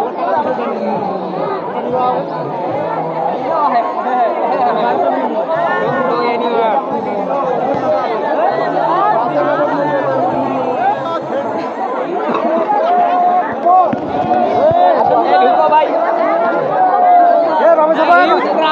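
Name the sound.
huge crowd chattering at Kantojiu Temple gate, Dinajpur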